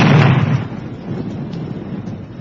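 A naval gun fires once in a radio theatre sound effect, giving a loud, deep boom that tails off into a rumbling decay with no voices over it.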